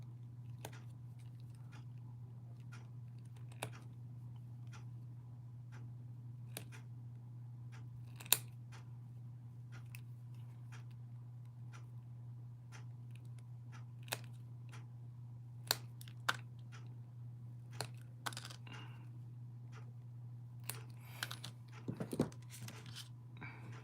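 Sharp, scattered snips from cutting damper rings out of a Tamiya DT-03 Neo Fighter buggy model kit's plastic parts, small close clicks over a steady low electrical hum.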